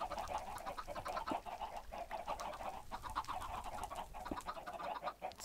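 Chickens in Minecraft cluck faintly in repeated short bursts, a busy fluttering chatter of several birds at low level with no talking.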